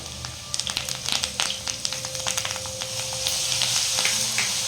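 Curry leaves and ginger-garlic paste fry in hot oil in a pan, giving a close sizzle full of quick pops and crackles that fade into a smoother, steady frying hiss, with no speech.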